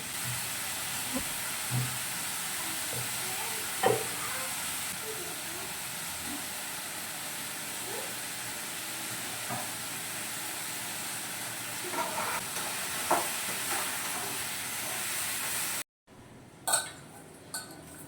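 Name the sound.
onions and tomatoes sautéing in pan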